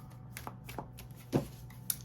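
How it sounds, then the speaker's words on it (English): Tarot cards shuffled by hand during a weekly astrology reading, a few soft, quiet riffling and tapping bursts up close, with a sharper snap near the end and no speech. "I'm going to give them one more good shuffle for you."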